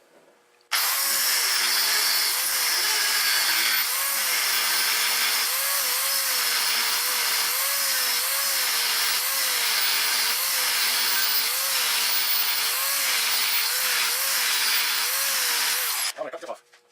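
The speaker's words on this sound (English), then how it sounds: "I'm going to make some vertical cuts with the skinny blade, and then I'm going to switch over to the grinder blade." A power grinder cuts into a hardened steel file during a prototype knife build, a loud continuous high whine with a slightly wavering pitch that starts abruptly, holds for about sixteen seconds, then cuts off.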